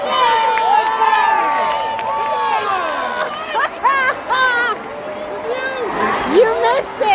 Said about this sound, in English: see the crowd's going wild. We just scored!